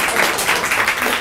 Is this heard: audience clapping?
yes